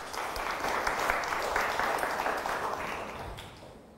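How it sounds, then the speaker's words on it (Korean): An audience applauds steadily at a Korean lecture or talk event, a dense wash of many hands clapping that holds at an even level throughout, with no voices over it. "박수 한번 보내주시고요"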